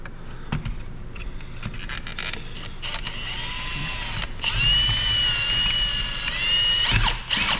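A power drill whines steadily while boring a hole in an old Old Style beer sign light, its pitch rising and falling with load, with loud bursts near the end and creaking, clattering thumps throughout.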